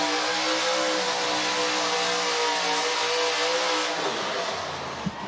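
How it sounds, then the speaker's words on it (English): A pulling truck's engine roars steadily at a county fair truck and tractor pull, loud and close with a constant hum, then falls away near the end. "you hear the motor die down, and you hear it accelerate back"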